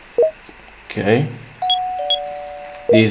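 A doorbell in the video game Kurokami-sama's Feast chimes with two clear sustained tones, heard after someone speaks briefly over faint game background sound.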